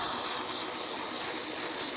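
Aerosol brake cleaner sprayed onto a shop towel during a brake pad swap, one continuous close hiss lasting about two seconds, nothing else audible.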